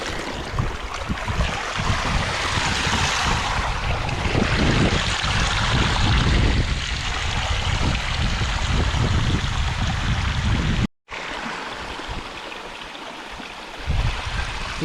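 A loud, continuous rush of flowing stream water on a trekking trail in Chirappullu, Wayanad, fills the scene, briefly cutting out once before resuming a bit quieter.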